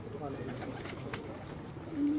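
Rooftop pigeons give soft, low cooing calls close by, repeated in short phrases beneath a voice.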